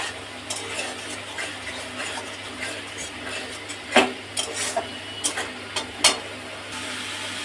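Onion-paste masala being sautéed with melon seeds, poppy seeds and cashews, giving a low sizzle under a spoon that scrapes and knocks against the pan in quick irregular bursts, close, with no talk.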